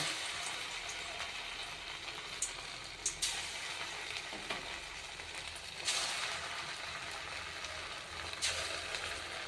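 Spoonfuls of batter dropped into hot oil sizzle and crackle steadily, with brief louder bursts as each new portion goes in and some stirring noises, no voices.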